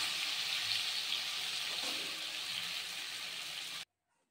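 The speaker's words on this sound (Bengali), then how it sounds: "এবার আমি এগুলোকে তেলে ভেজে নেব।" Chickpea-lentil dumpling pieces fry in oil with a steady, fairly loud bright sizzle, lasting a few seconds before stopping abruptly into silence.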